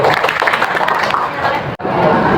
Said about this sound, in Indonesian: Tepuk tangan kembali untuk beliau.